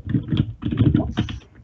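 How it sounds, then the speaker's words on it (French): Close, loud clatter of a computer keyboard with an AZERTY layout, typed in quick bursts of keystrokes with brief pauses between runs. "Ou le clavier qui fait du bruit."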